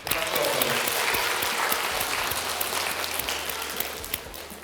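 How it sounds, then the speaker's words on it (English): An audience at an ice hockey event in Moscow applauds, a dense, steady wash of clapping that holds loud throughout and fades slightly toward the end. "let's give another big clap to all those amazing performers"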